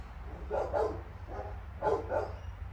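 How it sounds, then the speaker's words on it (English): Dogs bark in a backyard tropical garden in South Australia, two paired bursts a second apart, moderately loud over a low steady hum, with no talk. "sorry about the dogs barking"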